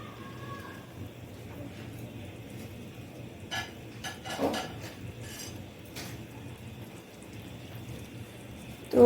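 Carrot halwa is served from a pan into a dish, with a metal spoon scraping and clinking against cookware in a few short bursts over a quiet, low kitchen background.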